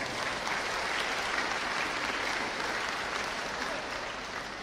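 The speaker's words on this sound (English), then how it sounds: "Let's give them a big round of applause." A large crowd at a state-level youth engagement program gives a sustained, even round of applause, a dense continuous roar of clapping that holds steady throughout.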